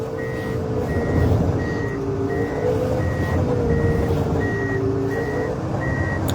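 Snow groomer backing up on a narrow trail, its reversing alarm beeping in a steady even rhythm, around nine beeps over a continuous low engine drone.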